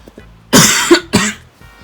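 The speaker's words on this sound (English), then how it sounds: "I coughed and then it stopped." Two sharp, loud coughs close to the microphone, the second following about half a second after the first, with near silence before and after.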